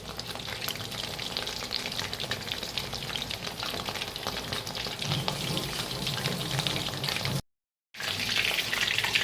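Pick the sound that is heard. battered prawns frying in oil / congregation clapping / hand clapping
battered prawns frying in oil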